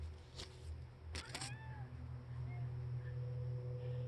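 A pet cat outdoors at night gives a few faint, distant meows over a steady low background hum, with soft thumps early on.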